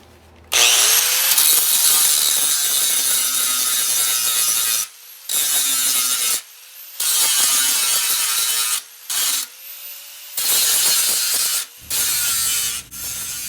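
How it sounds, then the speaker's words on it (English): Angle grinder taking the high spots off steel welds, with a loud, close abrasive whine cut into several bursts of a few seconds each, pausing briefly between passes. "take the grinder and just come across the top and take the high spots off of the welds"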